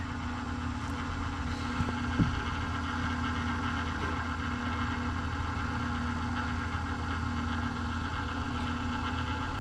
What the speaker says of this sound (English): let's see if we can make this thing stop spinning. Motor's turning there, look at that.